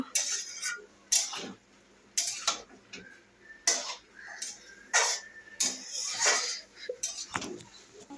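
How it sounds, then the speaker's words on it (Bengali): A spoon scrapes and clinks against a bowl while grated ginger is stirred into a mixture, irregular close taps and scraping strokes repeating every second or so, with no talk. "এবার দেখো মা আবার নাড়িয়ে নিচ্ছে, যেহেতু আদাটাকে মিশিয়ে দিতে হবে তার জন্য।"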